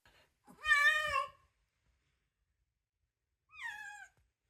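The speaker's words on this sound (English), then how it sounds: "Poor Oreo meowed only once during the entire process." A cat giving birth meows twice, a longer plaintive meow followed after a pause by a shorter, softer one, in otherwise quiet surroundings.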